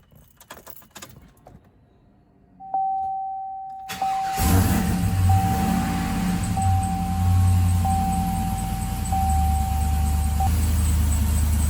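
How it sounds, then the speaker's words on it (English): After a few quiet clicks and a steady chime, a truck engine with a nearly empty fuel tank cranks and catches, then settles into a continuous low idling rumble. "Let's try to start this vehicle up."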